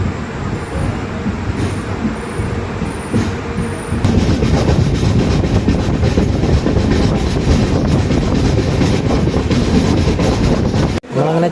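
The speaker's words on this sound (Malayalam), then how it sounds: "അങ്ങനെ ചെങ്ങന്നൂരിൽ നിന്ന് നമ്മുടെ വണ്ടി എടുത്തു." A crowded Sabarimala special train runs on its rails after leaving Chengannur, heard from inside as a loud, continuous rumbling roar that swells about four seconds in and cuts out briefly near the end.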